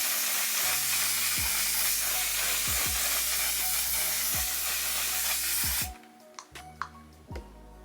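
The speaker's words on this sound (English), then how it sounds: "Okay, I'm about to hold my breath and spray." Aerosol makeup setting spray hisses in a loud, continuous burst for several seconds at close range, then stops abruptly, leaving faint handling sounds.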